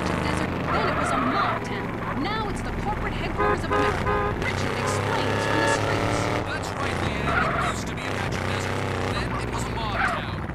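Car driving on new tyres in GTA San Andreas, with a steady engine drone, honks and other game sounds under continuous talking.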